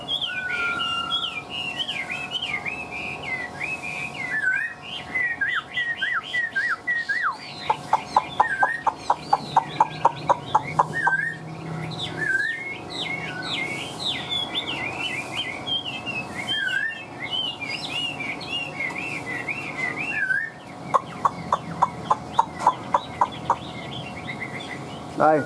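A Chinese hwamei songbird sings continuously at close range. The song is a varied stream of loud, bright whistled phrases broken up by rapid repeated trill bursts.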